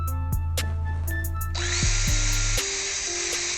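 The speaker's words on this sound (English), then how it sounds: "I am drilling the hole" A power drill whines at high pitch, boring a hole to install a doorbell, starting partway through and running steadily, with a few short motor revs and bursts before it kicks in close by.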